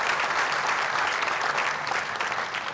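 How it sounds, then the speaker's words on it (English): A commencement ceremony audience applauding, a dense, steady wash of many hands clapping together, full and sustained from start to finish with no talk over it. "can we give a clap to ourselves? A hearty clap to ourselves."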